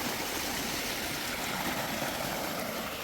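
Floodwater from Cyclone Ditwah rushes into a village pond, a loud, steady, unbroken roar of flowing water close by, with no voices over it.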